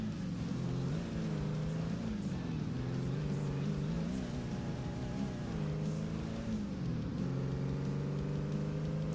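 A heavy truck engine in the off-road racing game ATV Offroad Fury 4 revs continuously and loudly, its pitch climbing and dropping in repeated surges and gear shifts, with no talk over it.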